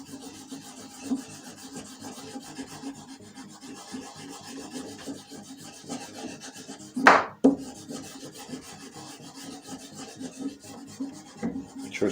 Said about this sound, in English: this is like a stropping compound, so all I do for a strop, just rub a little bit on